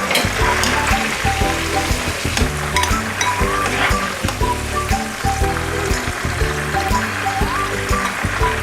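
Chilies sizzle and crackle steadily in hot oil, fried only until wilted, with a steady backing of music underneath.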